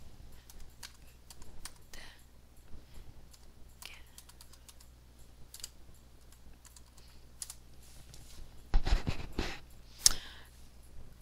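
A password is typed on a computer keyboard in a run of light, irregular key taps, close and fairly quiet, ending with a few sharper, louder clicks.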